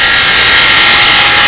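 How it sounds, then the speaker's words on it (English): A Dremel rotary tool with a pointed bit drills into oil-soaked wood, giving a loud, steady high-pitched whine with a gritty hiss that runs unbroken throughout. "Okay, what we're doing, not using a drill, we're using a pointed Dremel bit"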